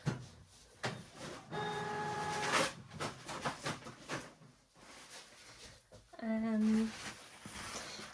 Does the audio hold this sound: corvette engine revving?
no